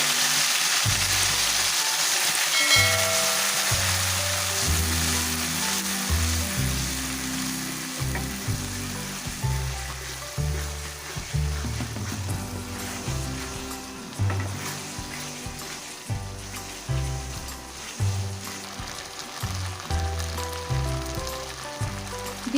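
Fennel and mustard paste sizzles and fries in hot oil for a tomato pickle, a steady close crackle with soft rhythmic thumps and bumps of stirring underneath.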